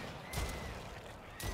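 Two short bursts of gunfire in a video game sound a little over a second apart, each a sharp, bright crack, fairly faint against low background noise.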